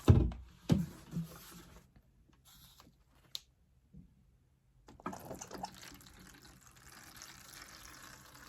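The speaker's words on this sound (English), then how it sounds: "I'm going to be watering my tray from the bottom." Water is poured into a seed tray for bottom watering, coming in a few splashy gushes at first, then a pause, and then a soft, steady trickle and drip, close by with no talking.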